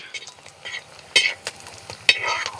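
Coconut pieces fry in a pan for a crab roast. A metal spatula stirs with uneven scraping strokes and two bright clinks over a light, close sizzle.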